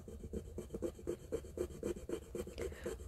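Sterling silver jewelry is scratched across a testing stone in quick, rhythmic strokes, a soft gritty rubbing repeated about a dozen times at close range with no voices.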